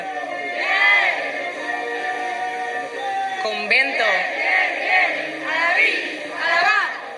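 A crowd of falleros shouts and cheers at the burning of the Convento de Jerusalén children's falla in 2024, loud voices rising in waves, with a voice calling out over them.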